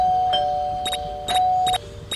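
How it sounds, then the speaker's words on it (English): In the video game Scary Teacher 3D, a doorbell chimes in short ding-dong bursts, about four rings in quick succession, fairly loud and close, with no talk over them. "Misty, I will ring the bell again."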